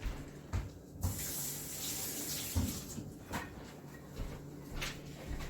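A hand rinsed under a running kitchen tap, steady water flow splashing into the sink with a few bumps and clatters, close and moderately loud, no talking.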